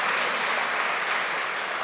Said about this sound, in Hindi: भाई भी हाथ ताली बजाएंगे ना